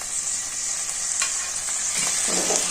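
Tomatoes frying in a pan, a steady bright sizzle with a few scraping stirs of a spoon, close and without talk.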